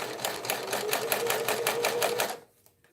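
A sewing machine runs a continuous stretch of rapid, even stitching on a tote bag, loud and close, then stops, leaving near silence with a faint tap.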